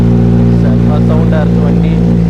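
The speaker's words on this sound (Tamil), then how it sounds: "வண்டி ஸ்டார்ட் பண்ணியாச்சு." Kawasaki Z900 motorcycle idling after being started, a loud, steady, deep engine drone with strong low harmonics, while someone talks over it.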